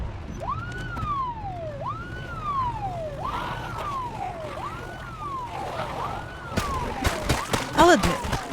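A slow rising-and-falling truck siren in a zombie video game wails in repeated cycles over a low rumble, ending amid a burst of clattering, crackling noise.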